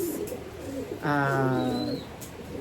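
A pigeon in a breeder loft gives a clear, close coo lasting about a second, set against quieter bird sounds and faint background voices.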